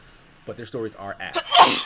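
A single sneeze bursts out at the end of a short stretch of speech, fairly close and loud, with someone talking just before it.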